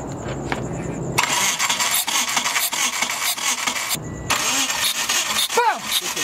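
Mitsubishi GSX car with a 600+ hp build and bent intake valves, its engine cranked by the starter in two bursts of loud whirring, a short pause between them, with a brief flaring note near the end.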